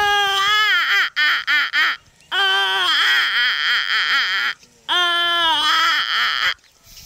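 A boy imitates a newborn baby crying, producing loud, wavering wails in three long bursts separated by short breaks and a few choppy sobs, close and alone.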